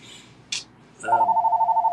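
A phone rings with a steady electronic trill after a couple of brief clicks, loud and close in a quiet room.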